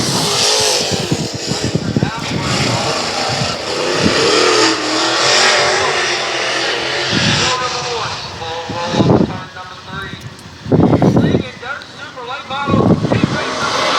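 Super late model race cars roar off under green at the start of an eight-lap dirt track heat race, a dense, loud engine rumble with rising revs and passing bursts, heard beneath continuous announcer-style talk.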